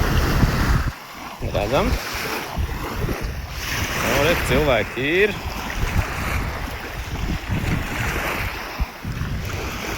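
Waves washing onto a Latvian seashore on a hot summer day, a steady broadband surf wash with wind buffeting the microphone, heard under someone talking close by throughout.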